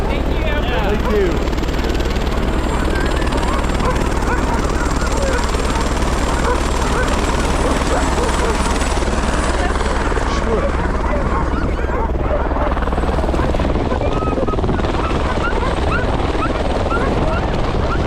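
A helicopter at Punchbowl Glacier near Girdwood, Alaska, runs loud and steady at close range with a dense, constant rotor roar throughout, while people talk faintly beneath it.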